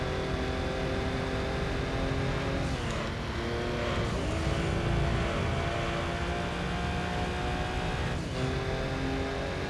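Engine of a Daihatsu Cuore in Gran Turismo 3, a continuous close, buzzing drone with the pitch climbing, then dropping at a few gear changes before it rises again.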